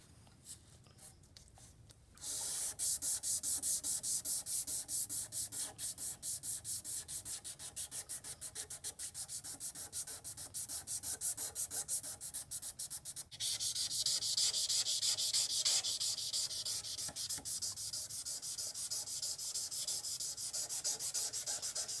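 Hand sanding a rusty old kitchen knife blade with 220-grit sandpaper, a loud, steady rapid scratchy rubbing that starts after a quiet moment and continues throughout, growing harsher partway through, with no talk.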